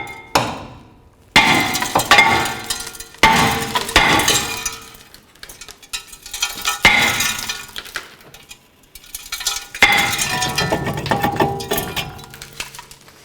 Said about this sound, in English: you can use your hammer and strike the back side of the rotor, and you can rotate it.